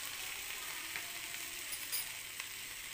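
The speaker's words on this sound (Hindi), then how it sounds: "अब मैं इसमें ऐड करूँगी कटे हुए टमाटर, थोड़ा सा अपनों ने नमक रखा था वो नमक" Chopped tomatoes and salt sizzle in a frying pan, a steady, soft hiss with occasional small pops throughout.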